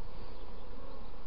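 Honeybees buzz densely in a constant, close swarm during a spring hive inspection, with no voices heard.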